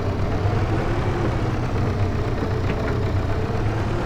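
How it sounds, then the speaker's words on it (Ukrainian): Tractor engine idling in the Farming Simulator 22 video game, a steady low rumbling drone held unchanged throughout, close and constant, with no speech. "Це у нас буде трактор працювати."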